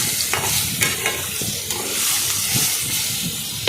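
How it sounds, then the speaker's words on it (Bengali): Potatoes frying with turmeric in a pan, giving a steady close sizzle and hiss with soft stirring scrapes throughout, and no talking. "অল্প পরিমাণে হলুদ দিয়ে আলুটাকে ভালো করে ভেজে নিলাম"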